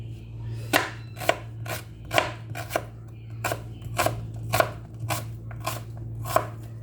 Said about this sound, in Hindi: इसको भी कुतर देते हैं।